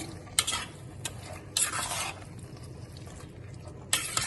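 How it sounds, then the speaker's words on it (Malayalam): Marinated chicken for a North Indian style chicken curry sizzles in a pan as it is stirred, with several sharp scraping strokes and bursts of hissing at close range, and no voices. "ഞാൻ മാരിനേറ്റ് ചെയ്ത് വെച്ച ചിക്കൻ ഇതിലേക്ക് ഇട്ട് കൊടുക്കുന്നുണ്ട്"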